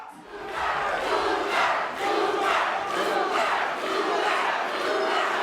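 A partisan crowd at an MMA fight in the Hulu Theater at Madison Square Garden cheers and roars in loud, surging waves, a continuous mass of voices swelling and dipping with no clear speech over it.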